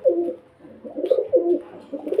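A pair of pigeons for sale, a male and a female, coo nearby in several low, throaty rolling phrases with short pauses between them, clear and fairly loud against a quiet background.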